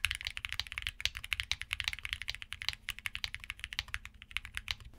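Keystrokes on Akko Piano switches clatter in a quick, steady typing rhythm, each press a crisp close click with a slightly muted bottom-out, continuous for about five seconds with no talking.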